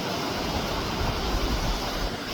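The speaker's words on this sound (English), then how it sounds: "we have a little waterfall right here coming down the mountain" A small mountain waterfall trickles down beside a road, heard as a continuous, fairly loud broadband wash of falling water with no talking.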